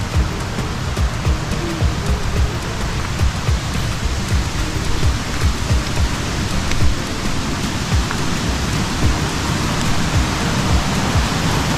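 Heavy rain pours steadily over the hills of St Thomas, Jamaica, near a rain-swollen river, a dense unbroken hiss of downpour with a constant roar and no voices.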